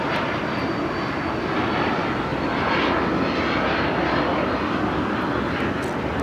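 A Japan Airlines jet bound for Tokyo Narita roars through its takeoff from the south side of Los Angeles airport, a broad, continuous, loud engine rumble that holds steady throughout with no voices.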